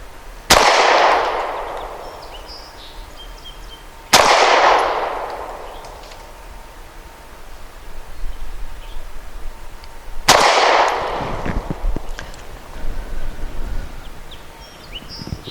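Three loud, sharply separated pistol shots from a Hi Point C9 firing Norma MHP 108 grain rounds at an outdoor range, each crack trailing into a ringing decay, with faint rustling and small clatter between.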